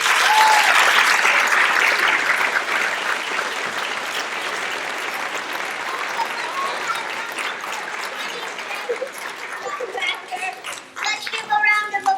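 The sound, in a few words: audience applause for 25th anniversary of Nutcracker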